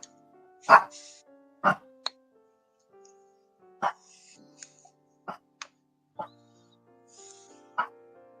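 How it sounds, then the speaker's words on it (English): A small dog gives a series of short, sharp, high yaps, spaced irregularly with quiet gaps between them. "He's got the cutest little bark."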